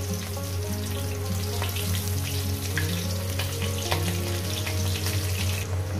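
Snake gourd stuffed with coconut filling frying over low gas heat in a pan, a steady close sizzle with scattered crackles and pops alongside a low continuous hum, with no talking.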